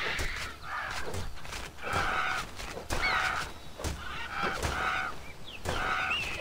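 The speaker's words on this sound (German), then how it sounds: "Buschharpie." Bush harpy enemies in the Titan Quest video game let out repeated harsh, honking bird-like cries, about five bursts over several seconds against a constant game background.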